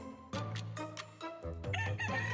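Chickens on a farm, with a rooster crowing among clucking birds; several loud, close calls overlap in quick succession with no pauses.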